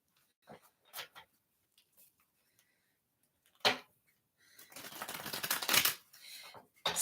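Tarot cards shuffled and pulled at a table, with a few soft card taps and flicks early on, then a longer burst of riffling and sliding cards building to a louder rustle, with no talk over it.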